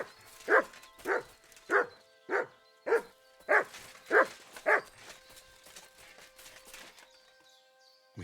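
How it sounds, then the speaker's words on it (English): In Kingdom Come Deliverance 2, a dog lets out eight evenly spaced barks in a steady rhythm, fairly near and clear, before the barking stops and only a faint quiet background remains. "What are you barking at?"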